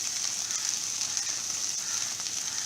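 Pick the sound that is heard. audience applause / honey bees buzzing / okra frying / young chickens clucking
okra frying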